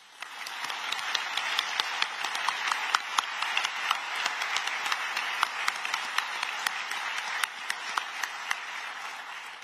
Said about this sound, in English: I'd like to give all of them one more round of applause